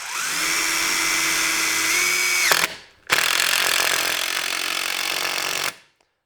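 A Hercules impact driver hammers big 5/16 and 3/8 screws in two loud, steady bursts. The first runs about two and a half seconds and drops in pitch as it stops, then a brief pause comes before a second, longer burst that cuts off cleanly.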